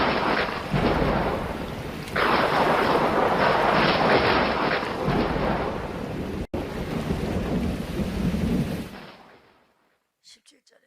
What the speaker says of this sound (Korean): 지금 우레가 나고 비가 올 것이다